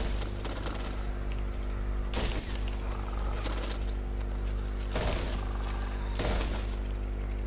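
M16 rifle gunfire in the Back 4 Blood video game, a few sharp loud shots spaced a second or more apart over a steady low background hum.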